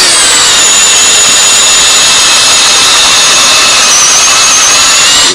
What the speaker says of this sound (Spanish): después extraeremos con una broca el interior del leño